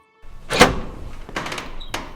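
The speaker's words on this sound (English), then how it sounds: "my thoughts were interrupted by the interrogation room door opening" An interrogation room door opening indoors, with a clack of the handle, a short scrape and then a couple of lighter knocks and thuds close by, with no voices.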